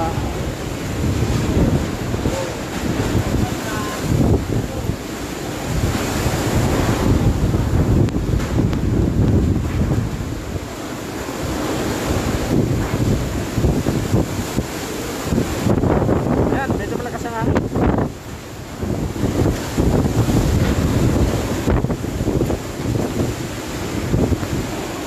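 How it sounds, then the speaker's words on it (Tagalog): Strong typhoon wind from Super Typhoon Goni roars and buffets the microphone without pause in Naga City, a loud, rushing gusty noise with someone speaking under it. "Malakas na yung hangin."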